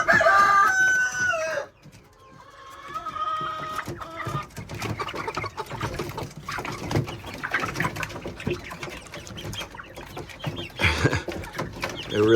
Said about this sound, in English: You hear the chicks.